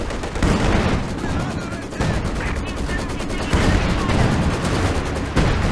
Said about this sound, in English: Long hits from the AT guns here.